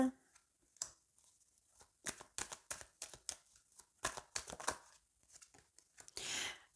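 Tarot cards handled and laid down on a surface, with a run of quick crisp shuffling and slapping sounds, soft papery taps in clusters, and a longer brushing swish at the end; close and quiet.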